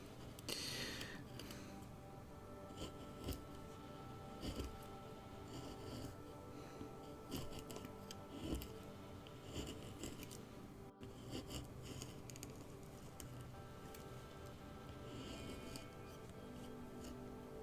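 A knife carves a stop cut into wood for an owl carving, making quiet repeated scraping and rasping strokes close up, with soft, irregular cuts throughout.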